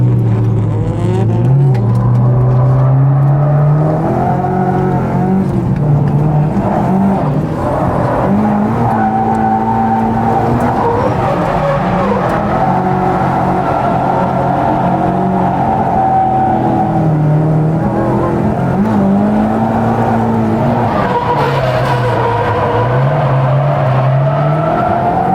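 A Nissan Laurel drifting at Mobara Circuit, its engine howling loud and close through long revving sweeps that rise and fall as the driver works the throttle, with tire noise underneath throughout.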